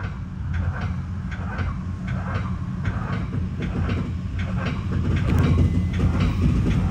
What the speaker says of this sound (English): Comes another westbound Metra.